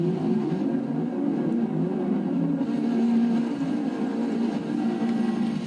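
Porsche race car engine in the Forza 6 racing game, a steady droning hum held at a constant pitch throughout, loud and continuous with no voices over it.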